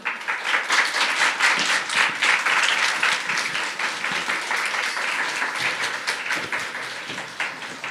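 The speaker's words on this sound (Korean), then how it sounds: "우리 나오실 때 큰 박수로 환영해 주시면 감사하겠습니다" A room full of people at a church Friday prayer service applauds continuously to welcome a speaker, dense clapping that holds steady for several seconds before gradually thinning out.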